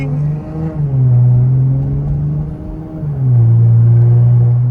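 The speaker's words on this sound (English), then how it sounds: "Y'all hear that supercharger?" Supercharged V6 Dodge Charger revving in traffic, a close, loud engine rumble that rises and falls in two swells with a whirring edge, with no talk over it.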